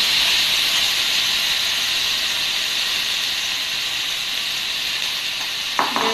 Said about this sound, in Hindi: ऑयल से फ्राई करने लगा है।